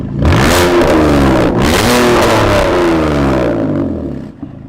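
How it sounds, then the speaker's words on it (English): A concept supercar's engine revs hard, with a sharp whipping rise and then a deep, loud growl. It climbs in pitch, dips briefly, surges again and fades at the end, close and alone with no voices. "It's got like a whip and then a deep growl."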